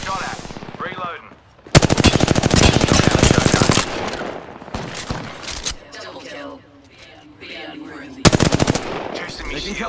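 Automatic weapons fire in an Apex Legends ranked arena match: loud, rapid bursts of gunshots come in two long volleys and a later short one, with quieter game sounds and brief voice moments in between.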